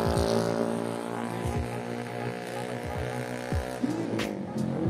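A noisy motorcycle engine on a homecoming ride gives a steady, fairly quiet harmonic drone with a few recurring pulses and no talk over it.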